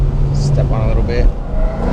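A 2019 Mustang GT Premium with a Corsa Xtreme cat-back exhaust accelerating gently, heard from inside the car as a steady low engine rumble and drone that thickens slightly, with a voice talking over it.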